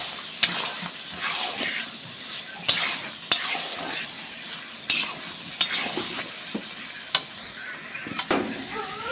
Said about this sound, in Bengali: আলু কটা দিয়ে দেবো একসাথে, মাংসের সাথে ভালোভাবে কষিয়ে নেবো